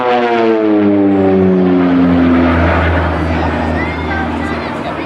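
A twin-engine OV-10B Bronco propeller aircraft roars loudly overhead on a steep approach at an air festival, its propeller drone sliding down in pitch as it passes, with someone talking over it.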